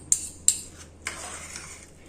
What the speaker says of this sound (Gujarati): હવે આ બધું જ છે તેને આપણે પ્રોપર રીતના મિક્સ કરવાનું છે